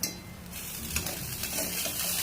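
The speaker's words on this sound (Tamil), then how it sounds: "கலக்கணும் அதான் கலந்துருங்க" A dish of soaking lentils and seasonings being stirred and mixed by hand or spoon: soft, continuous scraping and shuffling over a faint background hiss, with a few small clinks, close and fairly quiet.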